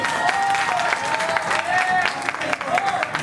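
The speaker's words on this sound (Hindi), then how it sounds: "एक बार और जोरदार ताली इन दोनों के लिए हो जाए" Steady crowd applause for a ghungroo song performance at a jagran, dense and continuous, with a sustained tonal sound like music or singing running underneath.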